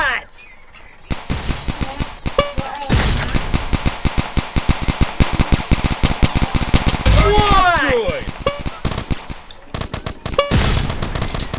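Rapid bursts of video game gunfire crackle almost continuously, mixing automatic volleys and single shots at close range, while excited voices talk over the shooting.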